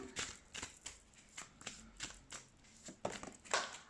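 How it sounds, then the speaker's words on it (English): Tarot cards being shuffled close by in quick, crisp bursts of flapping and riffling, repeated about eight times without any voices. "let's shuffle some tarot cards to clear these things out for you"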